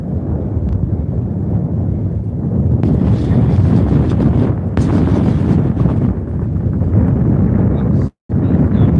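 Wind roars across the microphone while cycling uphill into a headwind. A loud, steady buffeting rumble runs nearly unbroken, with one brief dropout near the end and no talking.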